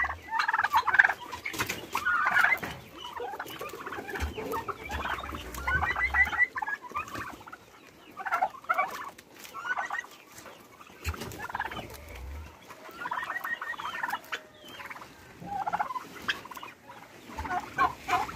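Turkeys gobble repeatedly among a yard of clucking chickens on a Nepali poultry farm, a busy mix of overlapping calls at close to moderate range with no speech.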